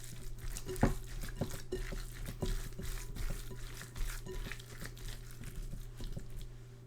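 Meatloaf mixture with green pepper and carrots being mixed by hand in a bowl, a soft, continuous squishing and crinkling with small irregular pats and squelches, close and fairly quiet throughout.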